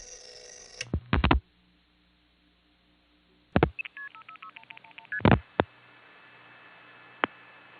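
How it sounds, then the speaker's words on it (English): Telephone call dialed from a home line and routed through a crossbar 5 exchange, with bursts of touch-tone dialing, clicks and a sequence of short multifrequency signaling beeps, followed by a single brief tone before silence. "Here's an example dialed from my parents' line, which I recently found out was crossbar 5, and you'll notice the call goes through with the audible tones."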